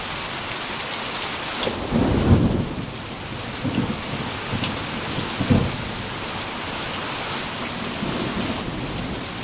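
A strong thunderstorm in Wilmore, Kentucky, with steady heavy rain on surfaces and several deep rolling thunder rumbles, the loudest bursts near the start and middle.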